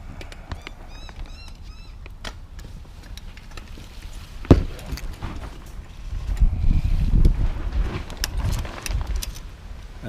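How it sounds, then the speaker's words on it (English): Wind blowing across a boat, a steady rushing noise that swells through the second half, with scattered clinks and rattles of rigging and a few distant bird chirps. "you can see the wind starting to blow a little bit"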